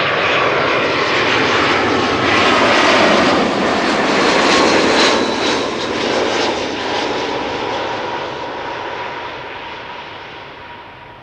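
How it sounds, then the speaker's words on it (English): A British Airways A319 arriving at Schiphol Airport produces a loud, steady jet engine roar that swells to a peak around the middle and then slowly fades as it passes, with no talking. "Up next is BA flight 436, arriving from London Heathrow,"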